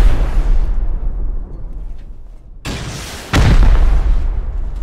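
Rocket explosions during a raid in a video game, two loud booming blasts with rumbling decay, the second heavier and closer, with no talk.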